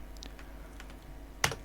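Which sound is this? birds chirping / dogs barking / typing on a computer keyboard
typing on a computer keyboard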